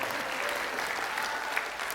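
An audience at a humorous health talk gives a round of applause, a dense, even wash of many people clapping that stays steady and fairly loud throughout.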